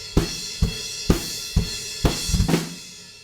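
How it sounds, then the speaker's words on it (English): Drum hits repeat at a steady pulse, each a deep kick with a bright cymbal wash, ending on a quick double-kick triplet burst before fading out. "But with the double kicks, we can squeeze a triplet in there."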